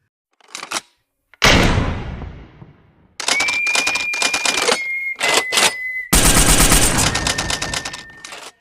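Nerf Rival Accu series blasters fired at a home range: loud bursts of rapid mechanical clatter and rattling flywheel whine, separated by short gaps and one sharp clack, close and with no speech.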